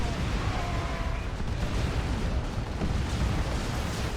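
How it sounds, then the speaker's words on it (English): Rocket run strike in Warhammer 40,000: Dawn of War 2, a dense, continuous rumble of explosions and blasts rolling together without pause, loud and thick, with no distinct separate bangs. "That is a rocket run."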